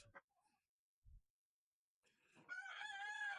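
A rooster crowing close by on a farm, a loud drawn-out harmonic call coming after a few quiet scattered noises and a short silence.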